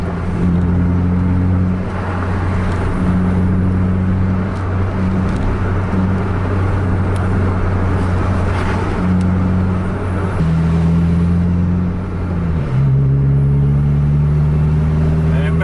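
An intercity bus engine drones loudly and steadily as buses race and overtake each other on a road in Aceh. The pitch rises and shifts with gear changes, and a voice talks over the engine noise.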